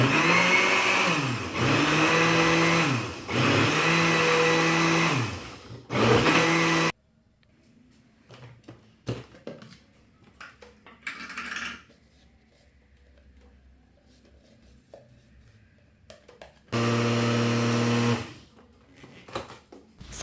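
A Moulinex mixer blends semolina chocolate batter in two loud, steady bursts of whirring, with a brief pause between them. After a stretch of quiet clatter, a third burst starts and holds.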